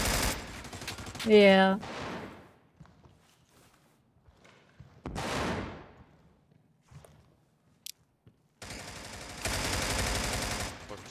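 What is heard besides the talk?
gunfire shooting through a wall, from a video game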